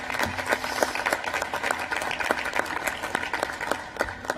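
Applause from an audience at the Eighth National Space Council meeting honoring the Secretary of Energy, a steady moderate patter of clapping held at even volume throughout without talk.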